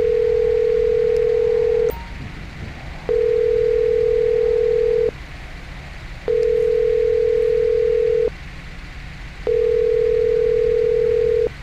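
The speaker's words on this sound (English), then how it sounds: "Let's go and try ringing the internal phone lines here." Ringback tone of an internal phone line being called in GTA 5 during a Paleto Bank heist, a steady tone sounding in long bursts of about two seconds with short gaps, repeating four times over a low background hum.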